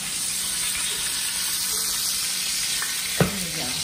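Steak sizzles in a hot pan, a dense, steady frying hiss close by with a single sharp tap of a utensil near the end and no talking.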